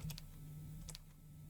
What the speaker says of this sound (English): we're just gonna focus on typing right now